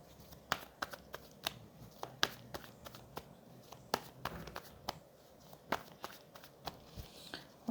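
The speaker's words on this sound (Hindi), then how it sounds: "One last shuffle." A deck of cards being shuffled for a tarot-style reading, a quick series of crisp riffling snaps and taps at close range, fairly quiet, with no talk.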